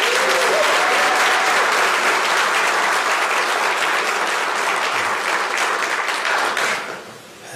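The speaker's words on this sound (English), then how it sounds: "everybody give Jada a round of applause again." A crowd applauds loudly and steadily for a speaker at an evening mayoral strategic plan event, dense clapping sustained for about seven seconds before tapering off at the end.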